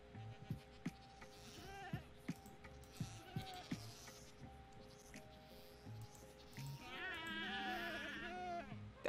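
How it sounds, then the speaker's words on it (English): Over quiet rhythmic thumps and soft game sounds in Minecraft, a goat lets out a sudden, drawn-out, wavering scream-like bleat near the end. "was that a screaming goat?"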